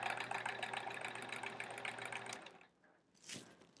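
A sewing machine stitching through a quilt with thick, puffy batting runs at a steady mechanical hum for a couple of seconds, then stops, leaving a short quiet tail with a brief rustle.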